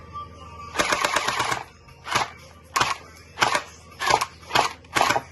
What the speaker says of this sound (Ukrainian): Закриваємо очі і робимо постріли.